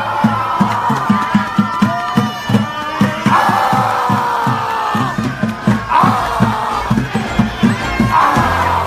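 Street crowd yelling and screaming skyward in a long, wavering outdoor roar, with rhythmic chanting pulses underneath and repeated swells of shouting rising over the steady din.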